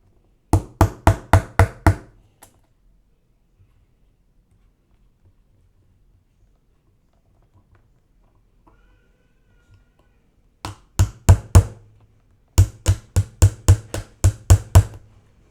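Trigger pin being knocked into a Glock 34 gas blowback airsoft pistol during a trigger install: two bursts of sharp, close, evenly spaced taps, about six at first, then after a long quiet pause roughly a dozen more in quick runs.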